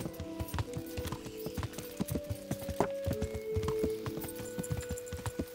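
A horse's hooves clatter in a fast, steady rhythm as it gallops in Kingdom Come: Deliverance, close and moderately loud, with a faint tonal whine running beneath the hoofbeats.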